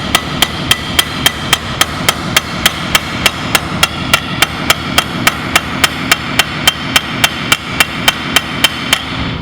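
Hammer striking a metal garden trowel during a metalwork project, a long run of sharp, evenly spaced ringing blows about three per second, loud and close with no talk.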